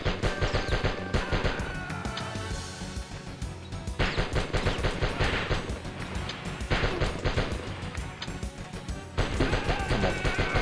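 Gunfire in the PS1 game Die Hard 2: dense, rapid, machine-gun-like bursts of shots that continue steadily throughout, loud and close with no pauses.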